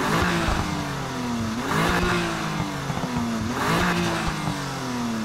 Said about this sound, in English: here we have the straight six cylinder stock engine of the M2